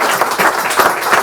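A brief round of applause for the behind-the-scenes team at a Friday night event, a short loud patter of clapping from a nearby crowd.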